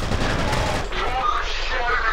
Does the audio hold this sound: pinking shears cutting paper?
no